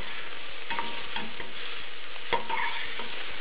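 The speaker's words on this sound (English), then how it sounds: "So this is what the onions look like as they're cooking" Onions sizzling in a pan while being cooked down for curried butternut squash soup, a soft steady frying hiss with a few light scrapes from stirring, close and without voices.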